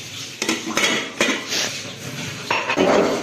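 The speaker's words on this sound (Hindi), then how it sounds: "बर्तन वॉश" Steel dishes, pots and pans clatter while being washed in a home kitchen after cooking biryani, with a series of close, sharp clanks and scraping knocks in an irregular rhythm and no talking.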